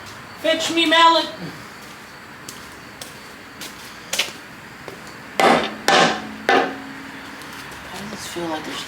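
Sharp knocks of a mallet on metal ring out in a few separate bursts, some in quick pairs, with a quiet voice and shop noise between, during work on a Chevrolet S10 pickup with an LS engine swap.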